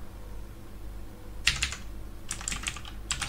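Keys on a computer keyboard clack while a Linux command is typed, two quick bursts of soft clicks over quiet room hiss, the second burst longer and more rapid.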